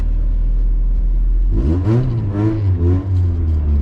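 A warmed-up Honda Integra with no power steering idles with a low rumble, then revs up through several rising and falling engine pulls as it sets off on a short drive.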